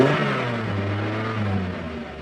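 A 1999 Mazda Miata's engine runs close by after a fuel pump replacement, a loud, steady idle that swells slightly as it revs, with no voices.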